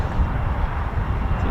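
A small Embraer Phenom jet from RAF Cranwell passes overhead, giving a steady, broad low engine rumble and wind-like roar that holds a constant level through the whole short stretch, with no voices.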